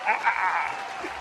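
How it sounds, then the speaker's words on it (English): Brief burst of audience applause at a lecture event, a short dense wash of clapping heard alone and fairly close, fading slightly toward the end. "Let me give you a round of applause before you get out of here."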